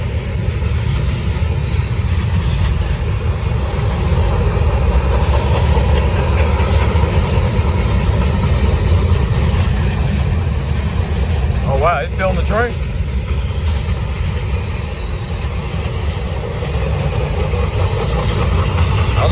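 A Norfolk Southern freight train rolls past at about track speed in Gaffney, South Carolina, a loud steady rumble of wagons and engine throughout, with a brief horn-like tone partway through and talk nearby.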